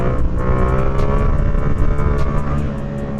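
Stunt motorcycle engine running loud and close, a continuous growling drone with small surges and dips as throttle and brake are worked against each other.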